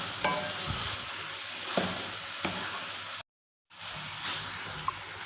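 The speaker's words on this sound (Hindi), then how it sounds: "और इसको अच्छे से हम मिक्स करेंगे।" About half a kilo of boiled chickpeas is stirred into a sizzling masala for shahi chana, a spoon scraping the pan in short strokes over a soft continuous fry, with a brief dropout midway.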